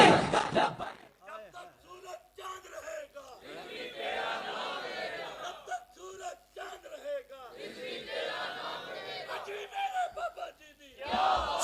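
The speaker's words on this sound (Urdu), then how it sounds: "یہ جیسے بابا جی کے نام پہ نعرے لگا رہے ہیں نا" At a Khatm-e-Nabuwat religious conference in Sialkot, a large crowd shouts slogans in rhythmic waves, with a leader's amplified voice calling out and the mass of voices answering in loud, echoing chants.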